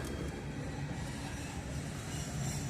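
Norfolk Southern freight train rolling past with Conrail gondola cars, a steady close rumble of wheels and cars with a faint rhythmic clatter, no talk over it.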